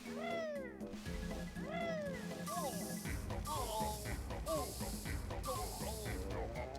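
Several meows from a cat character in Banjo-Tooie, rising and falling in quick succession over game music and hiss-like noise bursts, fairly clear and repeated.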